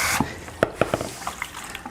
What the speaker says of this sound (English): Rinse it out with cold water.